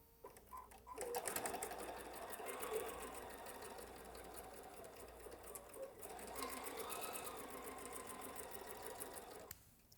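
A sewing machine stitches a quarter-inch seam along a peppermint quilt block in one continuous run, a steady fast needle rhythm, quiet and close, with a brief pause in the middle.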